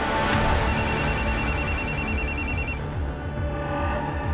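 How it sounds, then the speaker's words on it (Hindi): A telephone rings loudly in an indoor drama scene, a repeated electronic trill that cuts off partway through and leaves a dense background of noise. "सर, वो रूपाली जी के असिस्टेंट तुषार का फ़ोन था।"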